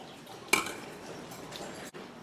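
Queso cheese dip is transferred into a serving bowl: a single sharp clink of a utensil against the bowl, then a brief soft scraping and quiet handling noise in a still kitchen.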